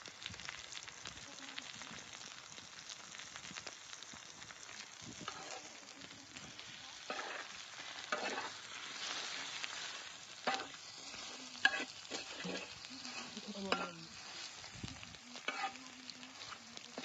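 Chillies and eggs frying and being stirred for anda bhurji, a soft continuous sizzle broken by repeated scraping strokes of a spatula against the pan, fairly quiet and close.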